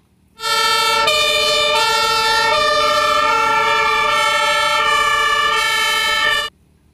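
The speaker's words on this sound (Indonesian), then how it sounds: "Ini mobil pemadam kebakaran." A loud electronic toy fire engine siren wails continuously for about six seconds, with a slight change in pitch partway, then cuts off abruptly.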